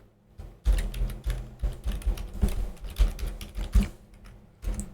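Computer keyboard keys clatter in quick, uneven bursts while code is typed, with a short pause before a final flurry of close, crisp taps.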